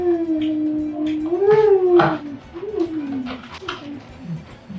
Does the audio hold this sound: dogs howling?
yes